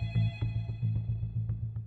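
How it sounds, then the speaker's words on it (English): A telephone rings indoors in a North Carolina home, a quiet repeated electronic-bell trill in short bursts. "the phone rang"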